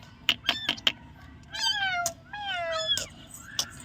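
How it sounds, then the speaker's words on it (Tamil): A small kitten meows several times, high and thin, in close, clear cries with pauses between them, mixed with a few short rustles and taps of handling. "குட்டி பூனை தூக்கு"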